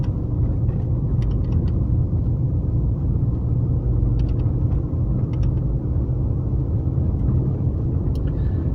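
Steady, loud low rumble of road and engine noise inside a car driving toward a marketplace in Buxton, continuous throughout with faint light rattles on top and no speech.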